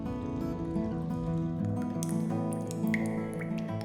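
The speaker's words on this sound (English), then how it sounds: "Water drips from above and pools at the bottom." Water dripping from above into pools inside a volcanic cave in the Azores, a steady patter of wet drips and plinks, close and clear, over a continuous tonal background.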